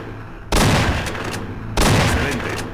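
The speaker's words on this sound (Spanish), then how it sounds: "Y vamos a usar el escopeto." Two heavy shotgun blasts from the video game El Matador, spaced just over a second apart, each a loud close boom with a short decaying tail.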